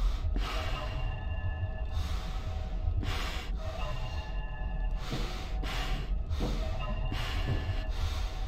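Snorting breaths in Five Nights at Freddy's 2 recur in repeated bursts of nasal exhalation, each a few seconds apart, over a dark, steady low rumble with no talk.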